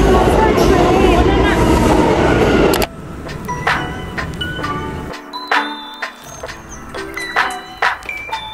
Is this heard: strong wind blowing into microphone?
no